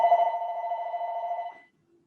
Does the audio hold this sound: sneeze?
no